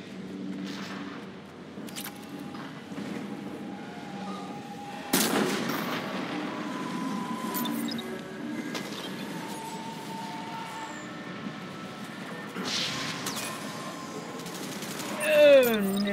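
Gunfire in Mass Effect Legendary Edition, scattered weapon shots and impacts among game effects at moderate loudness, with a sharper burst near the middle and a rising whine at the end.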